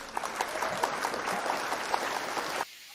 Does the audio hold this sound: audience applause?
yes